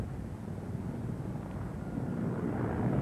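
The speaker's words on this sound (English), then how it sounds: "the helicopter flies the logs to a landing." Logging helicopter in the 1970s carrying a load of logs slung beneath it through forest toward a landing, a steady low rotor and engine drone that holds constant and swells slightly louder toward the end, with no voices.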